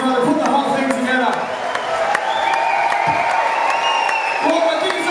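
An audience at an all-on-stage encore gives a round of applause, with scattered claps and cheers rising under a voice talking over a live concert setting.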